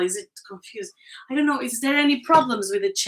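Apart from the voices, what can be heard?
No distinct noise like a dog, phone or traffic.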